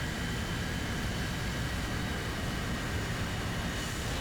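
Jet plane climbing hard in War Thunder, a steady loud roar of engine and rushing air with no change across the few seconds.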